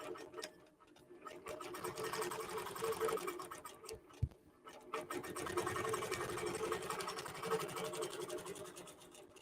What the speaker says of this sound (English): So I press go, and Qbot will automatically take a tie-off stitch and then quilt this design out.